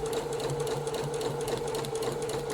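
Sewing machine running steadily while stitching fabric for puff sleeves and cuffs, a continuous close mechanical whir with rapid needle rhythm and no talk.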